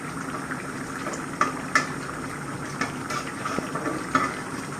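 Boal fish curry with shapla (water lily) stems simmers under a lid on a stove, giving a steady low bubbling hiss with a few soft pops and clicks, close and moderately quiet, with no talking.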